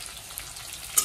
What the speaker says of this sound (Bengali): আলুটা আগে ভালো করে ভাজা করে নিই